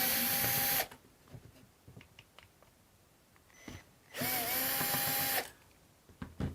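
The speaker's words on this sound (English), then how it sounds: "Just take off the 2 machine screws." A power drill unscrews the two machine screws from a Schlage Encode smart deadbolt in two loud whirring bursts, one at the start and one after a quiet stretch of small handling clicks.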